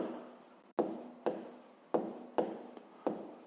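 A pen writes by hand on paper in short scratchy strokes, five or six quick bursts separated by brief pauses, close and clear.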